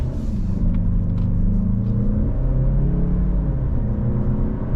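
A 2025 Mazda CX-30 Premium Plus with a turbo engine accelerates on an open road, giving a steady close engine drone with rising harmonic tones beneath continuous road and tire rumble, no voices.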